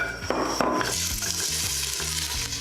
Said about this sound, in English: Once the oil is hot, add in your carrots